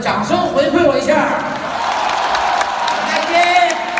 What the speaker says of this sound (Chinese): 二楼的朋友，请用你们的掌声回馈我一下